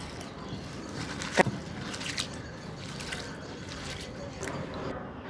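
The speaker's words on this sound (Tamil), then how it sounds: "இதை இப்போ தண்ணியில நல்லா ஒரு 2 தடவை அலசிக்கிறேன், நல்லா கழுவி." Red rice flakes (poha) swished and rinsed in water, giving a faint, steady wet sloshing with a few soft splashes.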